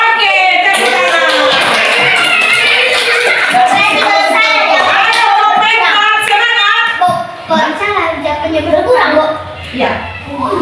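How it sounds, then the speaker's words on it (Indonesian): A classroom of schoolchildren bursts into applause, a dense rapid clatter of many small hands mixed with excited children's voices, loud and close, thinning toward the end as chatter takes over. "Oke, tepuk tangan."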